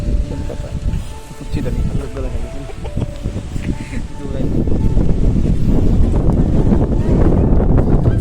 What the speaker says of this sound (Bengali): প্রচুর বাতাস হচ্ছে, প্রচুর বাতাস।